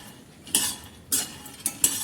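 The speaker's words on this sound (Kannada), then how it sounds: "ಚೆನ್ನಾಗಿ ಫ್ರೈ ಮಾಡ್ಕೊಳ್ತಾ ಇದ್ದೀನಿ ಕಳ್ಳೆ ಬೀಜನ ಬೀಜ ಸ್ವಲ್ಪ ಪಟಪಟ ಅಂತ ಸೌಂಡ್ ಬರ್ತಾ" Peanuts dry-roasting in a pan, stirred as they turn red, give several sharp scraping, crackling bursts separated by short pauses, close and moderately loud with no voices.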